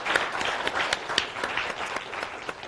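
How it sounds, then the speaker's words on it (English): A symposium audience gives its panelists a brief, steady round of applause, with crisp individual claps standing out throughout. "Let's give our panelists a round of applause"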